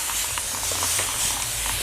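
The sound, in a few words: spray bottle spraying hair before a haircut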